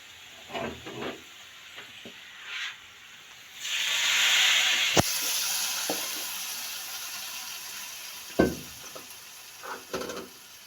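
A loud burst of sizzling and hissing as a hot oil tempering is poured into Punjabi kadhi pakora curry, fading into a steady crackle with a few clinks of utensils before and after.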